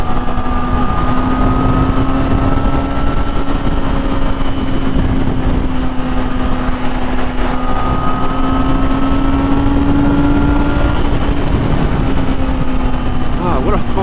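A 2014 Yamaha R6 sport motorcycle being ridden, its engine holding a steady, loud drone throughout with a slight pitch rise and fall, under constant wind rush.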